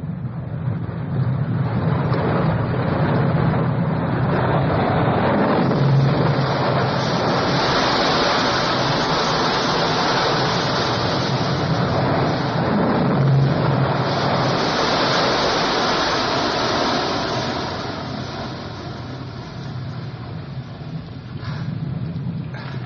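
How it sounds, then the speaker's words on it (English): Water crashes and roars continuously in a tunnel scene from the Dr. No film, a loud, steady rushing wash that swells slightly and eases toward the end, with no voices. "The water crashing and that electronic kind of sound while he's in the tunnel."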